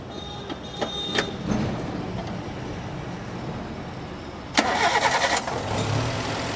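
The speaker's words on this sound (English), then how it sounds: "So just I will show you the sound of the Gypsy, how silent it is." An ex-army Maruti Gypsy's engine idles quietly and steadily at a low rumble, then a brief louder surge from the starter and engine catching before it settles back into a soft, even idle.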